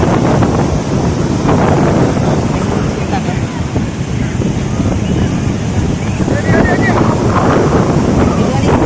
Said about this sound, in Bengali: আমরা এখন সমুদ্রের ধারে বসে আছি।